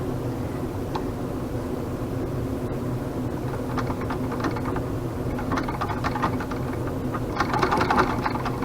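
Singer treadle sewing machine, restored, stitching at a steady pace, with a continuous low mechanical whir and rhythmic clatter that grows slightly louder toward the end, no voices.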